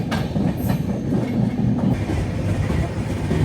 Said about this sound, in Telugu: Jabalpur Hazrat Nizamuddin ట్రైన్తో cross over.